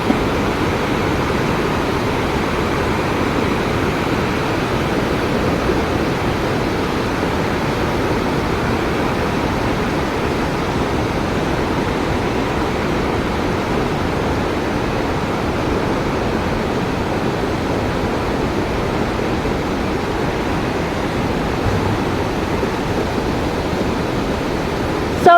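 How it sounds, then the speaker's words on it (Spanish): The Saltos del Monday waterfalls in Presidente Franco pour over basalt rock with a steady, loud, broadband roar that stays constant throughout, with no voices. "Estos son los impresionantes saltos del Mondadú, que también están en el municipio de Presidente Franco."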